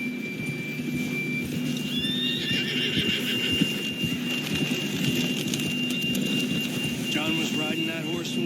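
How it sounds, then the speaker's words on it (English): In the Red Dead Redemption 2 video game, a horse whinnies loudly while hooves and riding noise continue throughout, with a second shrill neigh near the end amid steady outdoor game ambience. "John was riding that horse when we left Blackwater."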